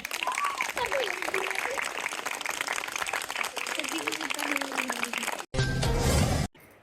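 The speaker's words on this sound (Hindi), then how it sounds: "तालियां बजाएं बच्चों।" Children clap at a school eco club award ceremony, the applause running under an adult voice talking, then a louder, denser burst of clapping near the end.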